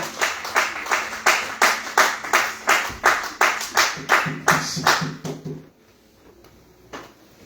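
A church congregation claps in loud, steady rhythmic beats, about three per second, before the clapping stops abruptly and leaves quiet room sound with a faint later tap.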